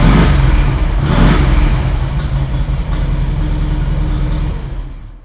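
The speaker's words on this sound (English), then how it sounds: "When you start the bike up, you can see it's measuring RPM." A Harley-Davidson motorcycle engine starts and runs close by, a loud, deep rumbling idle with a brief rev early on, then settling before fading out.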